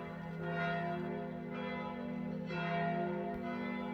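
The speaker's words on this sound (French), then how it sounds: "Vous entendez les cloches de l'église du château." Castle church bells at Château de Gilly in Burgundy toll with slow, resonant strikes roughly every second, humming tones sustaining between them, heard at a moderate distance.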